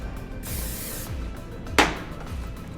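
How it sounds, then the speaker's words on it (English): Hairspray is sprayed onto a section of fine hair during a platinum blonde coloring job, two short airy hisses, the second a sharp close burst, over quiet background noise. "That's why I use the hairspray on each section, and it really helps hold it in"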